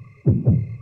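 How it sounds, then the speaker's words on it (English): Heartbeat effect from the video game Yomawari: Midnight Shadows: two deep, muffled thumps in quick lub-dub succession, close and loud over a faint steady hum. "Ooh, my heartbeat."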